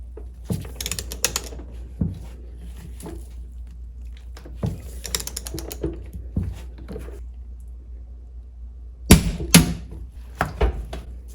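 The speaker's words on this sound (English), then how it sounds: "we will screw this on until it makes the click" A torque wrench ratchets a Mercruiser Alpha One outdrive bolt tight, with repeated close metallic clicking strokes in bursts and a sharper click near the end, no talking.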